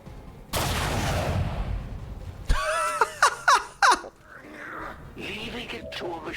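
Shotgun blasts in the video game XCOM 2: a dense burst of gunfire roars for about two seconds, then several sharp separate shots follow, mixed with voices and game sounds.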